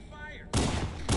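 Gunfire in the Halo Custom Edition video game: two loud broadband bursts of shots, the first a sustained volley and the second starting near the end, following a quieter stretch with faint voices.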